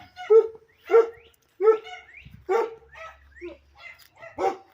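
Puppies bark and yip in a quick series of sharp, close calls from inside an enclosure on a homestead, eager to be let out, with a faint low rumble underneath.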